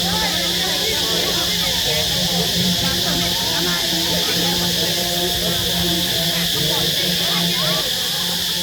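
Cicadas drone at a Lao temple gate-spire raising ceremony, a constant bright shrill buzz that holds unbroken throughout under faint background activity.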